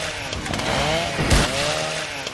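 A chainsaw sword in the video game Kingdom Rush Vengeance revs loudly and continuously, its buzzing motor whine swelling and surging with a heavy burst midway.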